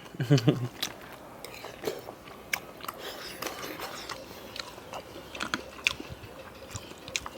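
Someone eats Thai rice noodles in rich coconut curry, with close, wet chewing, biting and intermittent slurps throughout, louder bursts near the start and scattered mouth sounds after.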